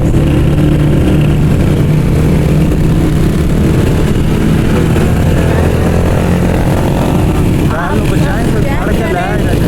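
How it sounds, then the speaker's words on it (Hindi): A motorcycle rides fast along a forested mountain road near Daman-e-Koh, Islamabad, with a loud, constant engine and wind roar throughout as voices talk over it. "हमारी बाइक बहुत तेज जा रही है और ये जंगल है।"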